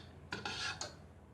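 A utensil scrapes and stirs buffalo sauce made with Frank's RedHot in a pan, giving three brief rasping strokes close by over a steady background hum.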